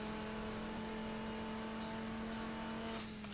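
A car engine revs in a quick throttle blip during a heel-and-toe downshift under braking, a sustained steady engine drone with a held tonal hum, fairly faint and heard alone without talk.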